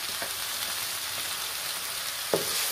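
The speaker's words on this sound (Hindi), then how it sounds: "लहसुन को भी 1-2 मिनट के लिए फ्राई कर लेंगे" Garlic frying with browned onions in a pan, a steady soft sizzle with a few faint crackles and one sharper pop near the end.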